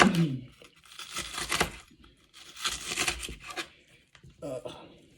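A knife slicing through a whole onion on a cutting board for raclette, with several bursts of crisp, crunchy cutting and rustling, close and fairly quiet, separated by short pauses.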